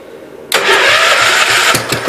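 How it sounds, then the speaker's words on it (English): A Kohler engine on a Gravely 566 snow blower cranks and catches after a quiet half-second, then runs loud and steady at a close, even idle with slight uneven pulsing. "this motor is one of the nicer running Kohlers I have"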